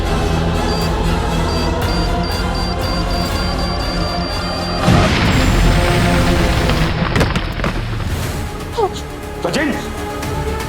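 An explosion blowing something up in a Hindi TV crime drama lands as a deep boom about halfway through, rumbling on beneath dramatic background music and sound effects, with debris-like crackles trailing after.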